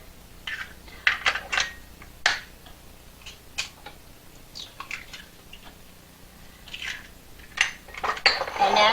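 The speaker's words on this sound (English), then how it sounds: "First thing we want to do is put 4 eggs." Four eggs are cracked and dropped into a mixer bowl for zucchini bread, with sharp clinks of shell against the bowl and clattering of dishes, in irregular close bursts.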